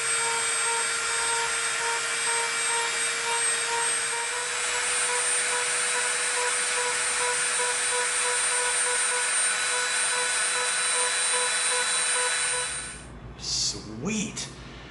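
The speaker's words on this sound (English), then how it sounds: "Now we've got some glue residue on here that we can clean up with our Dremel." Dremel rotary tool whining steadily as it cleans glue residue off EVA foam, a loud continuous high-pitched buzz lasting about thirteen seconds before cutting out, followed by brief clatter.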